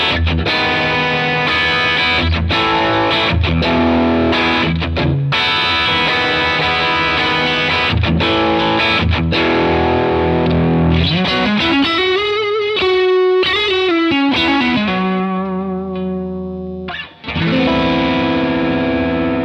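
Electric guitar played through a Browne Carbon X dual overdrive pedal with the gain cranked, loud and saturated with sustained distorted chords, then sliding bent notes and ringing sustain near the end, no talk.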